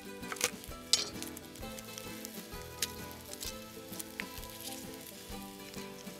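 Shallots and garlic sizzling in oil in a pan for Thai-flavored mac and cheese, a soft steady frying hiss with clinks of utensils against the pan.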